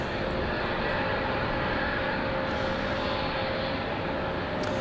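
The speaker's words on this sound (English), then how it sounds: "enjoy the 777 arrival" A Boeing 777 airliner arrives at Raleigh-Durham airport in the rain, its engines a loud, steady roar that fills the whole stretch without a break.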